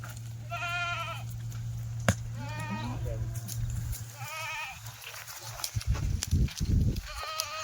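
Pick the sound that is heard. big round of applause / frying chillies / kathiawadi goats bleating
kathiawadi goats bleating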